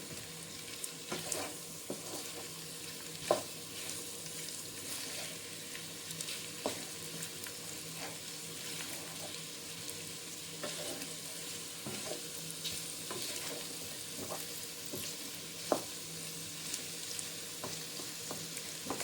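Potatoes and eggs frying in a pan while being stirred, a faint steady sizzle with scattered light scrapes and a couple of sharper utensil knocks over about twenty seconds.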